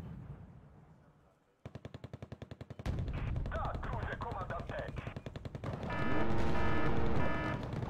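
Rapid machine gun bursts from a warplane in a video game, a steady rattling stream of shots starting after a brief quiet, then continuing under engine roar and rising alarm-like tones.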